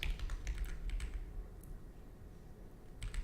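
Typing on a computer keyboard, a rapid, irregular patter of clicks that bunches up in the first second and a half, pauses, then picks up again at the end, close and moderately loud against a low background hum.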